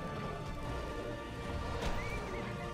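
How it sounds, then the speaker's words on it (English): A glowing horse in the video game Castlevania: Lords of Shadow neighs over a dense, steady game soundscape, a short whinny standing out near the end along with faint hoof clip-clops. "Oh, don't hit the pretty glowing horse."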